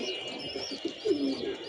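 Pigeons coo softly in a loft, a few low rolling calls rising briefly above a steady background hum, fairly quiet and without talk.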